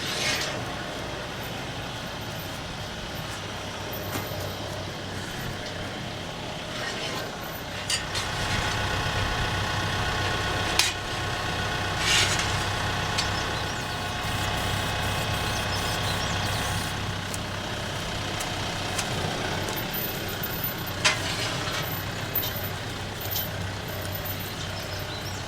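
Tractor engine idling and driving steadily on a farm while T-posts are unloaded for fence building, a constant low rumble with occasional faint clanks of metal posts.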